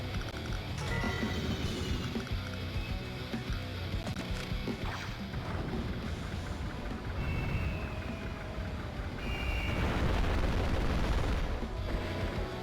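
A tank explodes in the Advance Wars: Days of Ruin video game, heard as a dense, continuous barrage of game booms and rattling gunfire layered over steady background music, loud and unbroken throughout.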